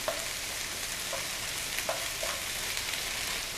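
Homemade meat sauce with meatballs stirred in a pan, a steady low bubbling sizzle underneath several light scrapes and taps of a utensil, close and fairly quiet, no voices.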